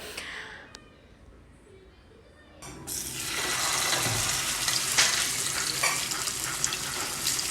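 Fish coated in chilli and salt dropped into hot oil: a quiet start with a few clicks, then a sudden loud, dense crackling sizzle that holds steady to the end, no talk.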